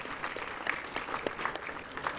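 Audience clapping at the 2017 ICT India Junior's Championship awards ceremony, a steady, moderately quiet patter of hands with scattered sharper claps across the whole stretch.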